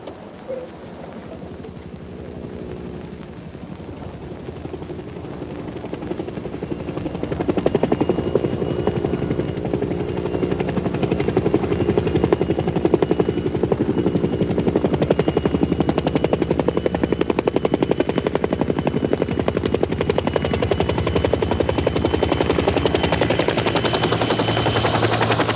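A helicopter flies in and lands near a remote monastery, its rotor chop swelling from a distant drone into a loud, close, steady thudding roar that holds to the end.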